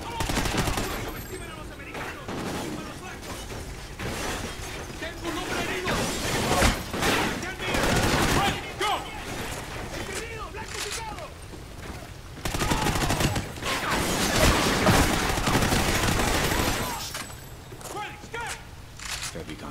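Heavy gunfire in Call of Duty Ghosts, with repeated loud volleys and crackling bursts through most of the stretch while voices talk over the shooting.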